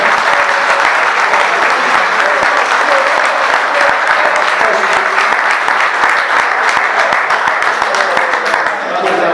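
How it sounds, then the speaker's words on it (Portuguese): A crowd at a pigeon-racing club gathering claps loudly and steadily for a man's birthday, with dense sustained applause throughout and a slight fade at the very end. "Uma salva de palmas para ele."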